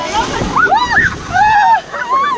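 Water splashes and sloshes as a boat pushes through a big wave on the Anaconda rapids river ride at Walygator amusement park, rough and close, while riders shout and talk over the rushing spray.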